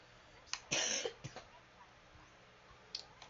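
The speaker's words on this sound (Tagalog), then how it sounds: "medyo umuubo ako eh" A person coughs and clears their throat in a few short, fairly close bursts, followed by quieter rustling and a couple of faint clicks.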